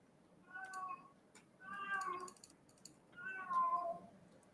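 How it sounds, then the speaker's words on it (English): A domestic cat meows three times in a row, drawn-out and plaintive, moderately close and fairly quiet, with short pauses between calls. "Shut up, cat."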